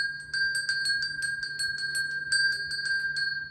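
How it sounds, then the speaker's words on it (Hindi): A metal cow bell from Uttarakhand, the kind tied around the necks of cows and oxen, rings alone in quick, uneven clangs with a sustained bright tone that lingers between strikes. "ये घंटी गाय बैलों के गले में बांधी जाती है, और इस घंटी का साउंड मुझे बचपन से पसंद है।"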